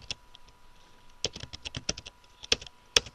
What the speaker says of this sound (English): Type in a string.